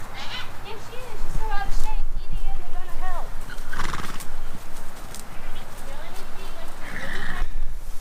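Several horses, all mares, whinny and neigh outdoors, with hooves clip-clopping on the ground beneath. Birds call faintly nearby and people talk throughout.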